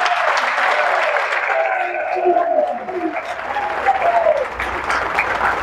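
An audience at a workers' celebration event in Gabon claps steadily and densely for several seconds, a sustained wash of applause with a faint voice running underneath.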